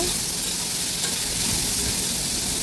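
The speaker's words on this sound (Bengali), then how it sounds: "আমার এই যে আলুটা ভাজা হয়ে গেছে," Potatoes frying in oil in a pan for a fish curry, a close, loud, continuous sizzle with faint stirring and no talking.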